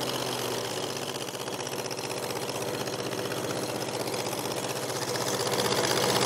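A tractor engine runs steadily at close range, a continuous loud mechanical chugging with a fast, even rhythm that holds the same pitch throughout and swells slightly toward the end.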